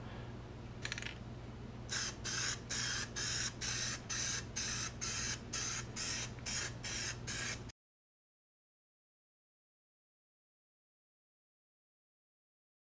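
Plasti Dip coating is sprayed from an aerosol can onto a Jeep JK wheel rim in about a dozen short, evenly spaced hissing bursts, close and steady, followed by silence.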